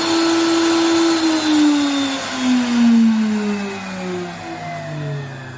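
A Waring Xtreme MX1500 blender with a faulty clutch runs its motor freely, a loud close whine that slowly winds down in pitch as it coasts, with no talk over it.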